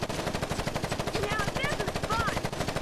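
A minigun in the Gangstar Vegas video game fires one continuous, loud, rapid-fire burst that hammers steadily through the whole stretch, with faint game effects layered on top.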